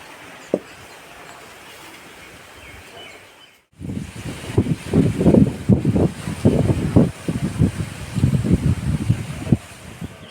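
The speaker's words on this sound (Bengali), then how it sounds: "খুব হাওয়া দিচ্ছে" Gusty wind buffets the microphone outdoors in loud, uneven bursts, preceded by a quieter stretch of steady background noise.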